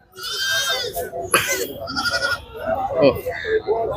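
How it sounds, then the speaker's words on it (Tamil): Goat kids of the Thalaicherry breed and native goats bleat repeatedly, several high, wavering, close calls overlapping one another, with people talking nearby. "இது போல ஆட்டு ஆட்டுக்குட்டிகள் கொண்டு வந்திருக்கீங்க"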